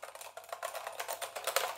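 Typing on a new computer keyboard with a numeric keypad, a fast run of soft, quiet key clicks in uneven rhythm, faint and close, with no talk.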